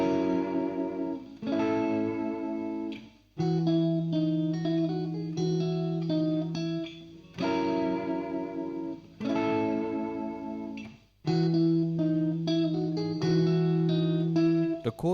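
Electric guitar intro to a song, played loud with effects, distortion and reverb, in repeating phrases of sustained chords and bright picked notes with short gaps between sections.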